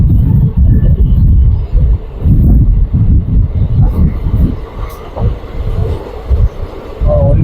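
A train rolls across a high bridge through mountainous country, its wheels clattering in a loud, steady rhythmic beat over a heavy rumble, with some wind buffeting.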